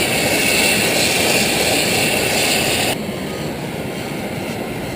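Loud, steady roaring hiss of volcanic steam vents on Dominica, dense and continuous with bubbling, dropping slightly in intensity partway through, with no voices.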